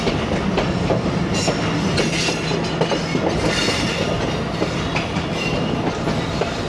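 The Fareed Express passenger train runs along a rural Punjab branch line between Kasur and Bahawalpur, with a loud, continuous rumble and rhythmic clickety-clack of wheels heard from on board.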